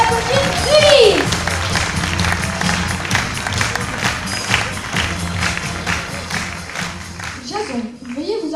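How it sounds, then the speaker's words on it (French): Audience applause for a performer named Ulysse at a staged show, dense steady clapping from a crowd lasting several seconds, with children's voices and some music mixed in. "Et pour terminer, veuillez applaudir Ulysse."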